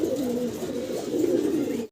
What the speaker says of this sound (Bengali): কিছু কাকা কবুতর দেখাচ্ছি আমার সম্মানিত দর্শকদের